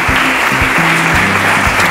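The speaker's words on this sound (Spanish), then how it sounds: "Damos un aplauso a Rubén y mucho ánimo." Loud, close clapping fills a municipal student awards ceremony as the crowd applauds a prize winner, dense and continuous with faint voices underneath.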